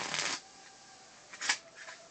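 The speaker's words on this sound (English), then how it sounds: "let's shuffle both together" Playing cards are shuffled together from two piles in a quiet room, a soft riffle burst at the start followed by lighter rustling flicks.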